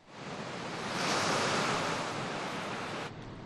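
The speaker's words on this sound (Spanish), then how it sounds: "Un lugar para dejarse llevar por el sonido del mar" Sea waves roll onto a beach on Isla del Viento as a steady, loud wash of surf that swells and then eases, with wind noise and no voices.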